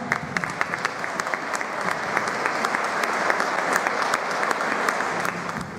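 Applause from guests at an art event in a villa, greeting a newly elected mayor: steady, moderately distant clapping that builds slightly and holds, with faint crowd murmur underneath.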